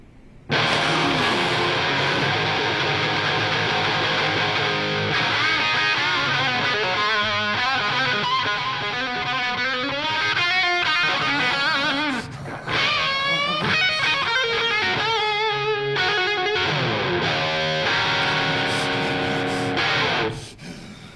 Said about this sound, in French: Je vais enlever un petit peu de distorsion. On n'entend pas vraiment le son de la guitare.